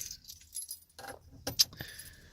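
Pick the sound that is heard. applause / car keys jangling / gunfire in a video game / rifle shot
car keys jangling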